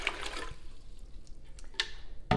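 Water poured into a pot to start a pickle brine for refrigerator dill pickles, a brief splashing rush that fades into quiet trickling, with a couple of clanks near the end.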